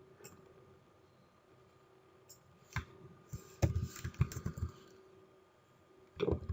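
Someone types SQL insert entries on a computer keyboard, faint scattered keystrokes that gather into a brief cluster of quick clicks, then pause before a final short burst, over quiet room tone.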